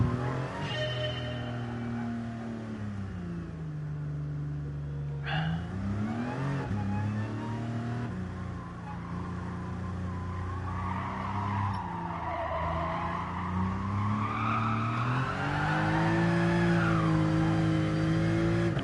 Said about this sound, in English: Bit of wheel spin coming out of there, that's not good.